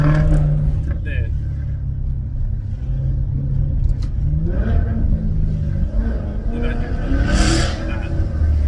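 A Maserati GranTurismo S fitted with a Larini exhaust rumbles at idle, then rises in a couple of short revs, loud and close, while someone talks over it.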